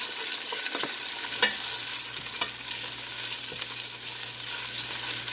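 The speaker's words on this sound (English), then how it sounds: "our onions and garlic are starting to sizzle" Steady sizzling of onions and garlic frying in a soup pot for caldo verde (collard green soup), with a few soft stirring clicks and scrapes, no talking.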